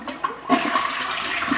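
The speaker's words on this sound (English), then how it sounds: "Flushing a toilet." A household toilet flushes in a single sustained rush of water, close and fairly loud, with gurgling swirls and no speech.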